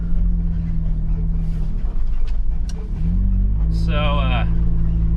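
A Toyota 4Runner TRD Pro with long-travel suspension labors in sand dunes, its engine droning steadily and loud, with a brief higher whine near the end under continuous road rumble.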